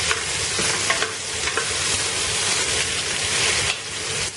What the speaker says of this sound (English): Let these onions cook.